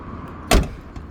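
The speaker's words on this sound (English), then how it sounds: "it actually still has the working factory door locks" Factory power door locks on a 1992 Mazda RX-7 actuating with a single sharp mechanical clunk, close and loud against a quiet background, followed by a faint click.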